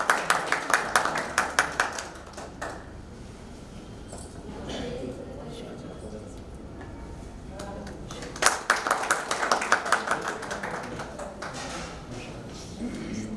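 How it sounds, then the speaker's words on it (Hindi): Audience applause at a poetry group's social gathering in Udaipur, with rhythmic bursts of clapping at the start and again in the second half, separated by a quieter stretch with talk and shuffling. "जोरदार तालियां बजती रहें।"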